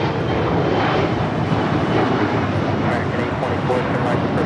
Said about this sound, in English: American E-Jets taking off there.